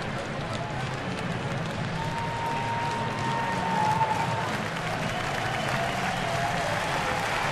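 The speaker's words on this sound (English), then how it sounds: "So a standing ovation by the sellout crowd here at Miller Park" A sellout crowd at Miller Park gives a standing ovation during a baseball game, steady sustained applause and crowd noise filling the ballpark with no break.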